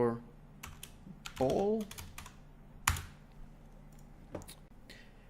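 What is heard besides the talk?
typing a blueprint name on a computer keyboard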